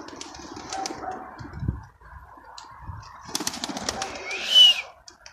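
Pigeons in a backyard coop in İzmir give soft coos and scattered wing flaps, with low rustling and a brief higher squeal near the end, all fairly quiet.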